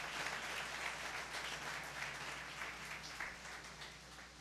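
A church congregation claps for the Lord during a Spanish-language morning service, a steady wash of applause that is faint and distant and keeps going through the whole stretch.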